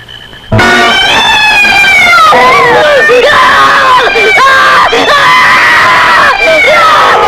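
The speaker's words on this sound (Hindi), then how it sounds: "क्यों चिल्ला रहे हो?" Several people scream loudly and repeatedly in a horror film scene, shrill overlapping cries bursting in abruptly after a brief quiet moment and continuing with rising and falling wails amid crowd commotion.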